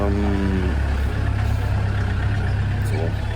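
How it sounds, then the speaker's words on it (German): A car passes near a bus terminal in Havana, a steady low engine rumble with a mid-range whoosh running throughout, fairly loud and close with no talk over it. "fährt gerade ein Auto lang, ist natürlich alles ein bisschen lauter"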